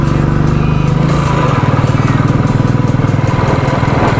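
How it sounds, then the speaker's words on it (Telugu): A motorcycle engine labours in second gear while climbing a hill on a route to a waterfall, a steady, close, throbbing drone that holds loud throughout without letting up. "బండి సెకండ్ గేర్లో అవుతుంది నా బండి. థర్డ్ గేర్ అయితే కష్టంగా ఉంది."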